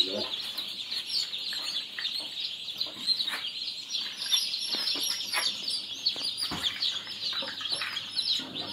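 Native deshi chickens clucking and calling steadily at a hatchery, a dense flock chorus with scattered chirps throughout, moderately near and fairly even in loudness, with a faint voice in the background.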